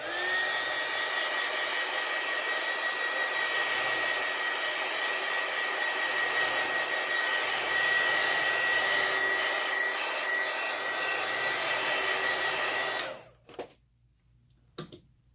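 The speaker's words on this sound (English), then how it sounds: "I'm going to use the heat gun to dry it." Heat gun blowing steadily as it dries alcohol ink for a flower design, a loud continuous whooshing roar that runs for about thirteen seconds, then cuts off abruptly, leaving faint handling noises.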